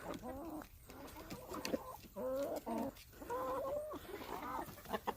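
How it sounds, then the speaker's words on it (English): Several hens cluck and murmur close by while pecking at cracked corn, a busy, overlapping run of short clucks and throaty calls with no talking. "The chickens were getting a little hungry. I had to stop and give them some cracked corn."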